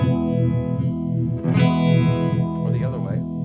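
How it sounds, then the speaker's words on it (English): A heavily processed electric guitar tone swirls with a rhythmic, uneven modulation from a Chase Bliss Wombtone pedal, pulsing in a lopsided wobble under a sustained chord. "it's kind of like a rhythmic, lopsided thing"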